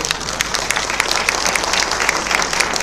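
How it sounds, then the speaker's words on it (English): Brief burst of audience applause at a League of Women Voters recall forum in Oxnard, dense overlapping clapping from a room of people, steady and fairly close throughout. "how about a round of applause for these 5 challenges?"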